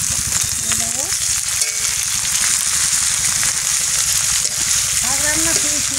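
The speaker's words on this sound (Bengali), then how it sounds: "এবারে বাছে কাটিয়ে ধুয়ে রাখা এই লাল শাক দিয়ে দেবো।" Freshly cut and washed red amaranth leaves hit hot oil in a frying pan, a loud steady sizzle up close, with a voice talking over it.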